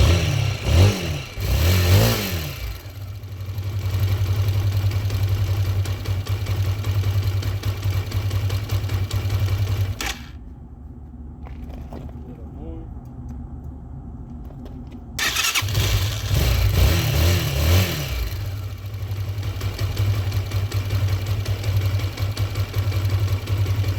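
A 2022 Brozz 250 dirt bike engine fires up and settles into a steady, loud idle with a few throttle blips, drops quieter for several seconds, then rises again with more revving.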